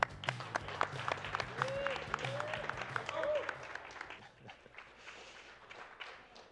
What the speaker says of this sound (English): one round of applause for Omnigamer coming up with Congo's Caper